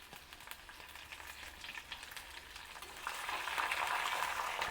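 Green chillies and curry leaves sizzle in hot oil as a tempering for star fruit pulihora, a steady close frying crackle that swells louder in the second half, with no talking.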